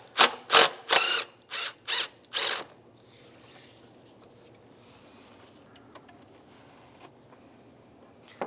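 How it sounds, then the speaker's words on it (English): A ratchet wrench clicks through six quick, loud bursts while loosening a 5/16 bolt on the throttle body bracket of a Mazda CX-9 engine, then near silence with faint rustling. "We're going to remove the top bolt connecting it to the throttle body itself."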